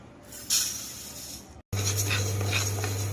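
Raw rice, half a cup, being dry-roasted and stirred in a pan, giving a steady close scraping rustle, with a louder sweep near the start, a brief break, then continued stirring over a low constant hum.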